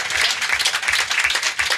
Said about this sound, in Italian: vorrei chiedervi un applauso per Andrea Roncato